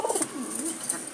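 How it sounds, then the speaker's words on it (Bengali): A male Jalali pigeon coos close by in a few soft, wavering low calls, with faint high chirps from other birds in the background. "একটা নরের ডাক, খুবই ডাকে, ভালো ডাকে"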